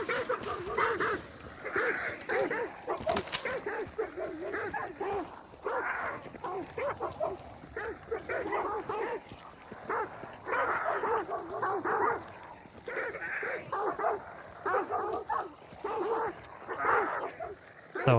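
Dogs bark repeatedly in a multiplayer sniper video game, a busy run of yaps, woofs and whimpers that overlap and continue almost without pause, with a player speaking over them.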